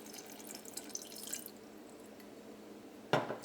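Water going into a chicken mixture in a pan, a faint trickle and drip over a soft background, ending in a brief louder splash near the end.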